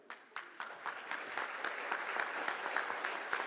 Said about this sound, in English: And give a nice round of applause.